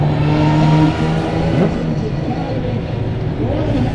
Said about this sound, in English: Absolutely magnificent night of modified sedan racing.